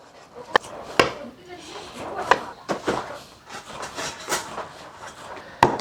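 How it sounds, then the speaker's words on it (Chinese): A knife chops semi-fat pork front leg meat on a board, giving about eight sharp, uneven strikes close up, with a voice murmuring in the background. "先切一下后也同样的宰碎"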